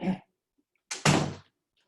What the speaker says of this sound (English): Close my door, please.